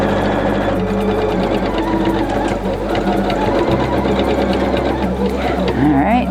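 A sewing machine runs steadily with a fast, rhythmic mechanical stitching beat, loud and close, with a voice speaking over it.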